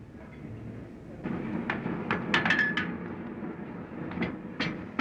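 Hammers strike hot iron in a 1950s chainmaking forge, a series of sharp metallic clangs in irregular rhythm over a steady low workshop rumble, fairly close and loud.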